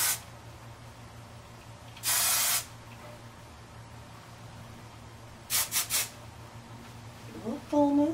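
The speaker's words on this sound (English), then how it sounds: "Take some hairspray. This is my favorite hairspray," Kenra Platinum hairspray sprayed onto hair in a rocker-style ponytail: one longer hiss burst, then a quick cluster of three short sprays, close and loud over a low room hum, with a brief voice at the end.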